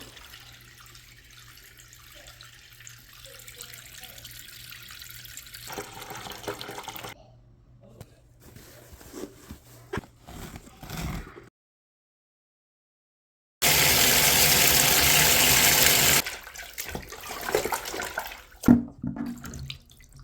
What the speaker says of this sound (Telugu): ఇక్కడ వాటర్ బయటకు వెళ్ళడానికి ఇక్కడ ఒక హోల్ ఇచ్చారు.